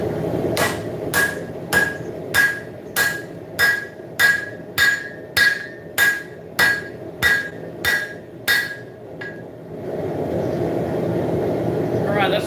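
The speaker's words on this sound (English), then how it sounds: "I'm working this on the horn of the anvil because I've got a concave section like that I don't want to fold in on itself" A hammer strikes a steel .50 cal machine gun barrel worked over an anvil horn. About fourteen evenly spaced ringing blows sound loud and close, then stop, leaving a low background hum.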